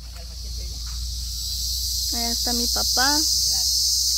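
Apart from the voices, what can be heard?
cicadas buzzing loudly in trees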